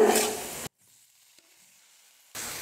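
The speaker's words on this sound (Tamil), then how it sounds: "தக்காளி நல்லா வதங்கணும் அதனால் ரெண்டுலேருந்து மூணு நிமிஷத்துக்கு நல்லா குக் பண்ணிக்கிறேன்" Tomatoes, onions and a small piece of tamarind sizzle in a pan: a short burst of frying, a near-silent pause, then the sizzling returns.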